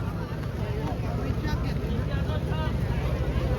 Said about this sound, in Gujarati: જો બોટ ઉપડી